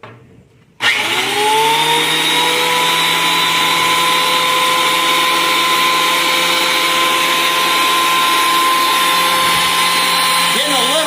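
A DeWalt DW734 thickness planer spins up with a sudden loud whine and keeps a steady high-pitched roar as live edge oak passes through, close and sustained, with a slight pitch wobble near the end.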